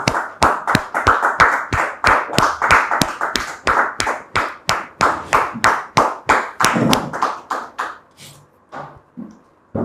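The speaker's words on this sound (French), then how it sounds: "On les reçoit par des applaudissements, comme on sait si bien le faire, sur ce plateau." A television studio audience claps in unison, a steady, rhythmic beat of loud, distinct claps repeating for about eight seconds. It then breaks up into a few scattered claps and quiet.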